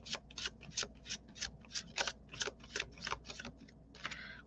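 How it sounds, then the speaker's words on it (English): Tarot cards being shuffled by hand during a live reading, a steady run of crisp riffling flicks and snaps, close and fairly quiet, with no talking. "That was actually a pretty good shuffle."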